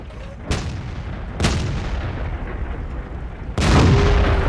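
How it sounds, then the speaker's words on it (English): Cannon blasts from a T29 heavy tank in a tank battle video game: three loud, sharp shots spaced about a second or two apart, each followed by a short rumbling tail. "and I start shooting once again."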